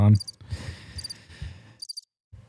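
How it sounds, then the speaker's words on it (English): A cricket chirping sound effect comes in short, high, pulsed bursts that recur three times at irregular intervals, playing under people talking. "I just want the crickets there."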